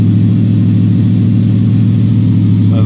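An LPG-fuelled car engine runs with a steady, loud low drone, its revs picking up after extra fuel is added, holding a continuous mechanical hum throughout.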